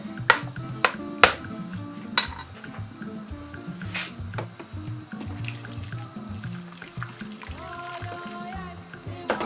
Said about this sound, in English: I'm just going to mix this bit with warm water.